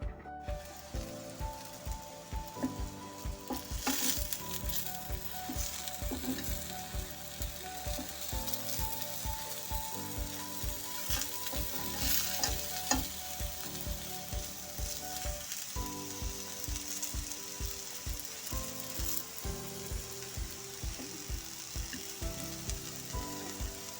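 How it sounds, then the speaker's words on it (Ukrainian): Steady sizzling of eggplant frying in hot oil, continuous and close, with faint clinks and a tonal hum running underneath. "І тепер буду їх обсмажувати на олії."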